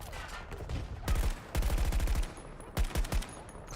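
Bursts of heavy-recoil gunfire in the survival video game Stranded, several rapid-fire volleys with brief pauses between, loud and close.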